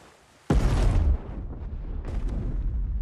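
A sudden loud boom of a movie explosion bursts in, then settles into a heavy rumbling roar that lingers, followed by smaller crackling pops.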